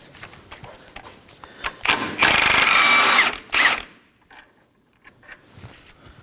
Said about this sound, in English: Using a 17mm socket, we're gonna go ahead and remove the nut.